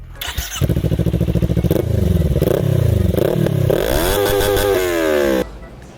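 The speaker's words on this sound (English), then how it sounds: "the problem is the engine sound. It is a 180-degree parallel twin." A motorcycle with a 180-degree parallel-twin engine starts up and revs, a loud, close, throbbing lumpy beat that rises and falls through several throttle blips before cutting off, with no voices.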